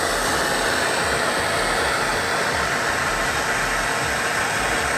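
A Nortel Mega Minor glass torch burns with a steady, loud, broadband roar, a constant close hiss of flame that never changes.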